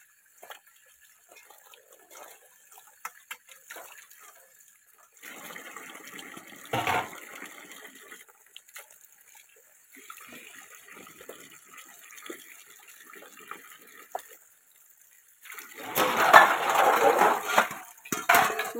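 Dishes washed by hand under a running kitchen tap in a home, with soft clinks and scrapes of utensils, stretches of running water, and a louder gush of splashing water near the end.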